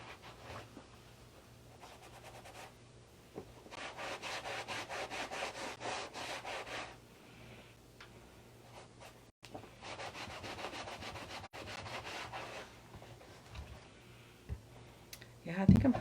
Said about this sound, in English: you could put a little bit of that and rub it in